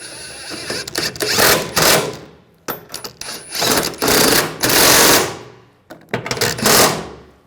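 A power tool drives bolts into the rear bumper of a 2011-2018 Ram 1500 in three loud, rapid ratcheting bursts close to the listener, with short pauses between them.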